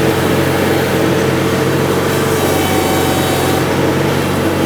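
A front-mount rotary cutter mower on a TrailBlazer TB-ONE runs steadily while mowing an open field, a loud continuous engine drone with whirring blades and low hum, close and unbroken throughout, no talking.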